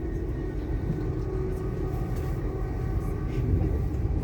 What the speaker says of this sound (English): welcome on board this LNER Azuma to London King's Cross